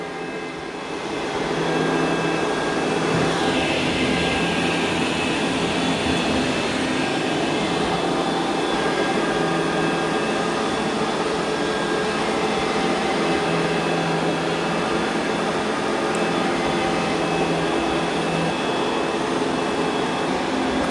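Robot mop of a Dreame L20 Ultra or iRobot Roomba J9+ scrubbing the floor as it moves back and forth, giving a steady, continuous motor hum and whir with faint scrubbing texture, unbroken throughout.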